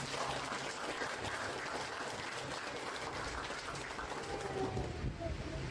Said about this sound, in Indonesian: mari kita berikan tepuk tangan atas jasa-jasa mereka